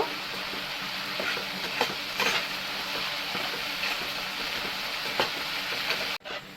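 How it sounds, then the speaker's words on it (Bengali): Mushroom kosha base of onion with ginger, garlic and chilli paste frying in a pan over low gas, a steady close sizzle with occasional stirring scrapes, cutting off abruptly near the end. "আমি এক মিনিট মতো ভালো করে মিক্স করে নেব"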